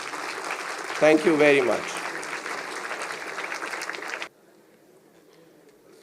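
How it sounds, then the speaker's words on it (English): A hall audience at a foundation's annual day celebration gives a steady round of applause lasting about four seconds, with a brief spoken thank-you near the start, then the clapping stops abruptly, leaving quiet room tone. "I think that deserves a huge round of applause and congratulations."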